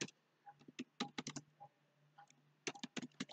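Rapid keystrokes on a computer keyboard as Python code is typed, coming in irregular bursts of clicks separated by short pauses, close and fairly quiet with no talking.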